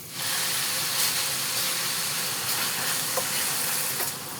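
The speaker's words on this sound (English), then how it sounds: "Already starting to sizzle, so we're just going to let this brown." Ground meat sizzles steadily in a frying pan, a constant close hiss with faint pops and crackles, no voices.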